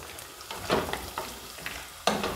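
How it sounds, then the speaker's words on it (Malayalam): Ginger and garlic being sautéed and stirred in a pan, with a steady close sizzle and a few sharp scraping strokes of a utensil, no one speaking. "ഇത് നല്ലോണം ഒന്ന് സോട്ട് ചെയ്ത് വരുമ്പോൾ"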